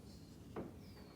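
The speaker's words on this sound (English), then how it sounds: "As I'm shutting my door now," The passenger door of a GM 4106 bus, fitted with newly installed rubber seals and closing tightly, shuts with one brief, muffled thud, faint and close, against a quiet background.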